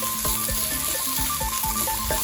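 Thai red curry paste for a pumpkin curry dry-roasting in a pan over low heat, a steady close sizzle with soft repeated scraping strokes of a spatula, no voices.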